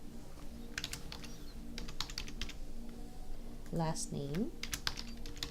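Quick keystrokes on a computer keyboard while entering a child's enrollment details in KidKare software, coming in short scattered bursts close by, with a person speaking over the clicking.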